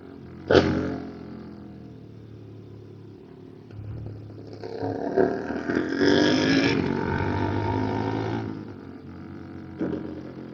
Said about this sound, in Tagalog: Ang sarap sa ears. Nakakatuwang pakinggan yung 450 SR